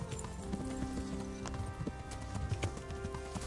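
Horse hooves clip-clop steadily while riding in the medieval game Kingdom Come: Deliverance, a continuous close rhythm of hoofbeats over a low ambient bed with no speech.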